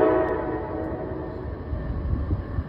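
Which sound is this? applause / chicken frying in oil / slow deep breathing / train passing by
train passing by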